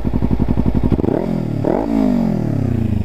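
A Kawasaki Ninja 300 with an Akrapovic exhaust and the noise killer removed idles with a deep, rapid thump. It then revs up loudly in two rising blips and holds a high throttle, close and alone.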